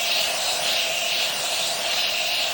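White foam dispenser running at a self-service car wash, a loud, steady hissing spray that holds unbroken throughout.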